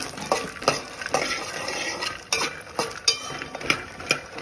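Makhana (fox nuts) roasting in ghee in a pan, with soft sizzling under repeated scraping and clinking of a spoon stirring against the pan in an uneven rhythm, close and alone.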